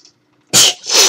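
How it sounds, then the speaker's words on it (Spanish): A single sudden sneeze bursts out close and loud after a near-silent pause, a sharp explosive onset followed by a second breathy burst as the sneeze trails off. "Tengo ganas de estornudar, maldita sea."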